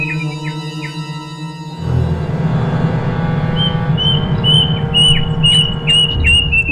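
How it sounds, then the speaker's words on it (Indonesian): Repeated high, thin descending whistled calls of a plaintive cuckoo ring out over a steady rushing background, a mournful cry sounding several times in a row. "suara kicauan burung kedasi yang terdengar sedih dan kadang menakutkan"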